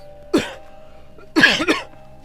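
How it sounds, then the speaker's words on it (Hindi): Two sharp coughs close by, the first single and the second a rougher double cough, with quiet pauses around them. "सारा दिन तो भी खांसते ही रहते हो"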